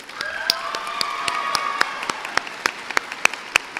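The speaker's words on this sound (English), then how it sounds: "Can we get a round of applause for them?" Commencement audience at a Colorado Mountain College ceremony applauding staff and faculty, steady dense clapping with scattered louder claps and a few faint cheers, building and holding throughout.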